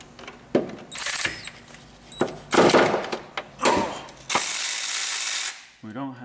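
A hand ratchet clicks in several bursts while loosening a 12 mm bolt on a power steering belt of a Toyota Camry, quick pawl chatter up close with a long steady run near the end.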